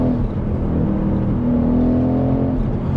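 A Mercedes ML63 AMG V8 in sport mode pulls hard under full throttle, a loud, steady engine drone and whir heard from inside the cabin, with no one talking.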